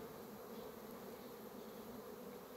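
Honeybees stream out of hives set in a yard in early spring, a faint, continuous buzzing drone of many insects heard at a distance, steady and without voices.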